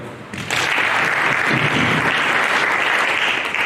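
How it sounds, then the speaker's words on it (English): An audience at a World Town Planning Day event in Kisumu County breaks into applause, a sudden dense burst of clapping that starts after a brief quiet and stays loud and steady to the end. "Let's applaud further."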